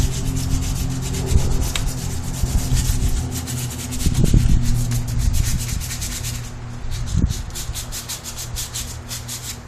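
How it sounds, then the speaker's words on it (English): Continuous rhythmic sanding of a PVC bow, an abrasive rubbing stroke repeated back and forth, close up and fairly loud, with no voices. "that's the sanding of one whole bow"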